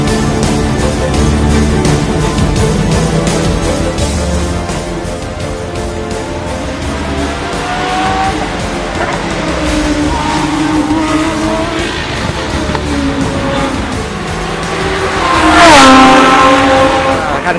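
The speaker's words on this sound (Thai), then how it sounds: "คันนี้นะครับก็จะเป็น Lamborghini LP 600 FL2 นะครับ" A Lamborghini LP 600 FL2 race car drives on a racing circuit, loud sustained engine roar with rising and falling revs, shifting pitch as it passes, and a sharp swell near the end.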